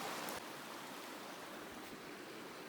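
Steady broadband rush of a river flowing past a bridge along a backcountry trail, a continuous near wash with no voices.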